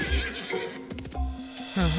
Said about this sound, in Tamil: இந்த குதிரை இந்த செவரை எவ்வளவு ஈஸியா தாண்டுதுன்னு அதுவும் யோசிக்கவே இல்ல.